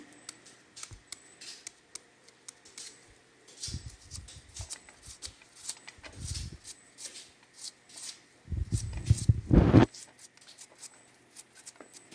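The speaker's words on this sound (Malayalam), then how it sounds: "ഈ വട്ടത്തിൽ അരിഞ്ഞെടുത്തിട്ടുള്ള എണ്ണിക്കാമ്പ് നുറുക്കുകയാണ്." Intermittent knife strokes chop banana stem into small pieces on a board, short bursts of crisp cuts with pauses between, ending in a quick flurry of louder chops.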